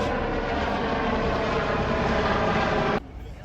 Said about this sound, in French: beaucoup d'hélicoptères par ici.